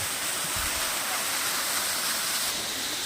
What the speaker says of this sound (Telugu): చూడండి ఎంత బాగా వాటర్ ఫాల్స్